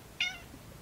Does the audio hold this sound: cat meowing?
yes